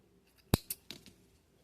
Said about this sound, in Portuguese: E aqui eu vou cortar